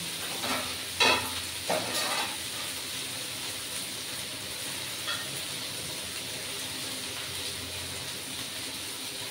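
Something fries in a covered pan with onion paste, garlic and mustard paste, a steady soft sizzle and hiss with a few louder stirring scrapes near the start.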